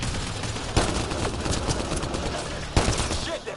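Enemy gunfire in Mass Effect Andromeda crackles in dense bursts over a noisy combat backdrop, with two sharper loud shots standing out among rapid fire.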